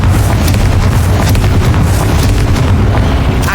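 A Confringo explosion spell from Hogwarts Legacy erupts as a loud, dense fiery blast that rumbles continuously with deep booming energy and crackling bursts throughout, no voices.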